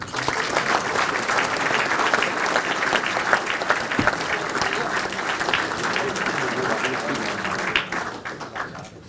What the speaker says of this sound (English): Can you give a massive round of applause for the one and only Mark Gamson.